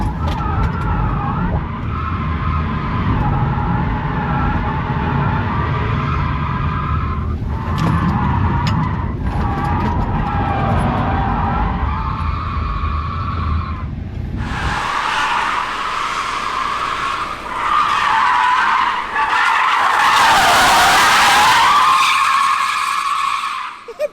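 A 1200 hp Barra-engined Mustang spinning in reverse, its engine roaring steadily before the tires break into a long, loud, screeching skid that builds in the second half.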